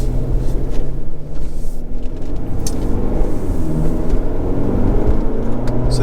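A Jaguar E-Pace accelerates on the road, heard from inside as a steady engine hum and low rumble with tyre and road noise, the tone gradually building.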